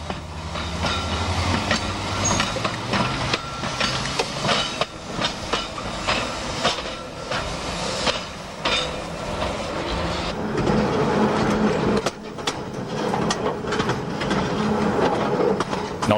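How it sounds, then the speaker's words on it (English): Snaefell Mountain Railway electric train climbing Snaefell, the Isle of Man's highest mountain, with steady rumble, clatter and rail noise continuing throughout at close range, no voices. "ride to the top of Snaefell, the island's highest mountain, and that's on its unique electric railway"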